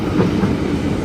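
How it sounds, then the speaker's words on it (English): A passenger train arrives at a station platform in Parramatta at night with a steady low rumble and faint rhythmic wheel clatter, briefly and without voices. "Terminating Parramatta service arriving on platform number 4."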